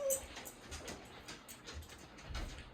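A husky left alone whimpers and yips in faint, uneven bursts over a low indoor background, with no talking.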